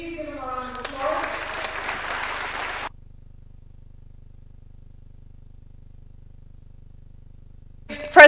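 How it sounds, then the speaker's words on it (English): Applause from the audience at the Africa Forward Summit, a moderate burst of clapping for about three seconds under a speaking voice, then near silence before another voice starts. "Please give him a round of applause."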